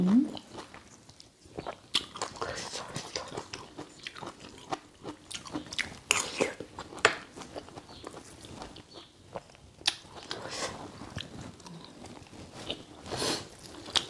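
Close, crunchy chewing and biting while eating Thai bamboo shoot curry with ya nang leaves and pickled fish, a steady run of wet bites and crunches with a few short pauses.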